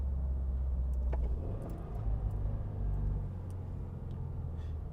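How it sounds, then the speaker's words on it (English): A car engine rumbles through a heel-and-toe downshift, with low drone, a brief rise in revs, then a settled lower pitch, close and steady with no talk. "let's do some heel and toe from second to third"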